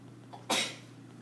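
One abrupt, breathy sneeze bursts out once in a quiet room with a low steady hum, then fades quickly.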